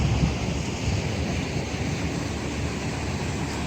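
Big ocean waves crash against a rock wall on the Hawaii coast, a loud, continuous churning surf roar mixed with wind buffeting the microphone, with no voices.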